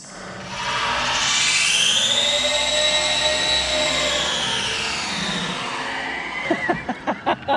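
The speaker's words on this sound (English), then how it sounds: "It is literally full throttle reverse on a trans brake release." A Traxxas No Prep Drag Slash RC car screams at full throttle in reverse, its motor whine sweeping up and holding loud for several seconds before trailing off into a series of sharp rhythmic clicks and bursts.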